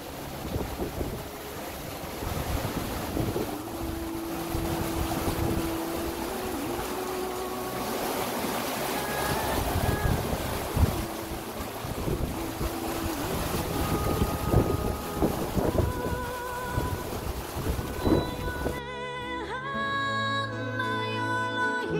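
Strong wind buffets a sailing boat at sea in 19 knots of breeze off southern Italy, a steady loud roar with water rushing along the hull, and a brief burst of other sound near the end.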